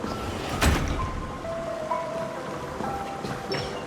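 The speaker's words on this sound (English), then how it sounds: "I think I hear the sound of water." Water from a magnificent fountain in the Honkai Star Rail video game, a steady splashing wash like falling rain, moderately loud and continuous with one heavier splash near the start.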